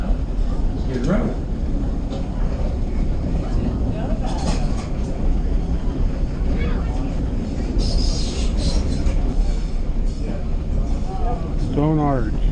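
Train No. 9 crossing on the way up to Roaring Camp, a steady broadband rumble of rolling wheels and rail noise running throughout, fairly loud, with a few higher squeals and people talking over it.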